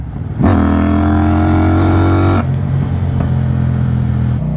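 A CFMoto Ibex 800s motorcycle with a KTM 790 Duke engine revs up hard nearby, holds a loud, strong engine note for about two seconds, then drops back to a steady lower running tone.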